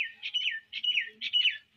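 Two- to three-day-old fancy pigeon chicks call in three rasping, squeaky bursts, close and fairly soft, with nothing else around.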